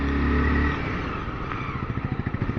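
Motorcycle engine on a mountain road trip in Himachal Pradesh, a close steady rumble that settles into a rhythmic idling putter.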